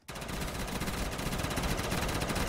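Rapid, continuous shotgun fire in a zombies video game, dense bursts of shots packed tightly together, loud and sustained throughout.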